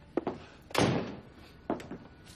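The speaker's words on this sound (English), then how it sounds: "You left the door open." A door in a house in a TV drama scene is closed, with a couple of light knocks, then a solid slam and a softer thud afterward.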